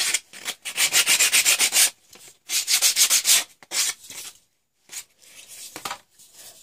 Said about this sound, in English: you could do that by hand, just a wee bit of sandpaper